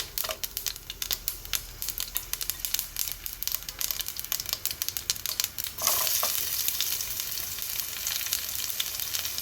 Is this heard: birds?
no